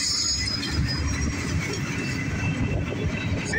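A northbound CSX mixed manifest freight train carrying steel coils rolls past, a steady, loud broadband rumble of wheels and cars with a faint squeal near the end.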